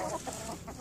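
Backyard chickens clucking briefly and close by, a short burst of soft, throaty clucks with no talking.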